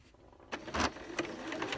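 A sewing machine stitching quilt fabric pieces together for improv piecing, with short bursts of mechanical stitching starting after a brief quiet spell, close and moderately loud.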